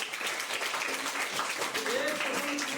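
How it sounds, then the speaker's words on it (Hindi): A crowd claps steadily and densely, a continuous wash of applause at even loudness with some voices mixed in. "जोरदार तालियां होनी चाहिए।"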